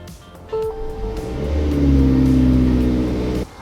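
A Haval Jolion HEV hybrid car is floored from a standstill with the brake held, its engine rising into a loud, climbing rev that holds for a couple of seconds before cutting off.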